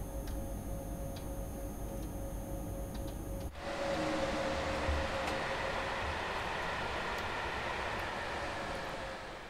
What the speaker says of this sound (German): Können wir den Zug an uns vorbeifahren lassen